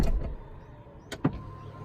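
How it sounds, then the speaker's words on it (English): Power tailgate on a 2019 BMW X5 closing: a soft motor whir under faint background, with a sharp latch thunk near the end and a brief settling sound. "I'm going to close up"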